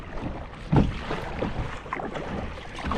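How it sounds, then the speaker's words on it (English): A kayak is paddled through choppy waves near a shoreline, with water breaking over the bow. A steady wash of wind and water carries one sharper splash early on, all close to the microphone. "I do have water breaking up over the bow a little bit, but I think we'll be all right."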